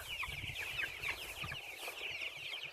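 Pastured chickens cluck and chatter continuously at close range, a dense overlapping flock with no voices.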